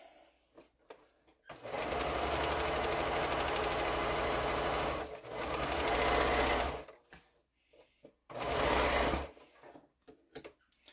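A sewing machine stitches a log cabin quilt block in two long, loud, steady bursts of fast whirring, the first lasting several seconds and the second shorter after a brief pause, with quiet handling noises in between.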